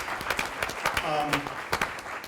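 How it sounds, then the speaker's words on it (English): Applause from a civic innovation event audience, scattered claps over a crowd murmur, with a brief tone and voices mixed in. "We can clap for that,"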